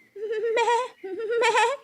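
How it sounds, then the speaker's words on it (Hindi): A cartoon goat grazing in a forest with her kid lets out two drawn-out, wavering bleats, close and loud, one right after the other. "स्वीटो बकरी अपने बच्चे के साथ जंगल में घास चर रही थी।"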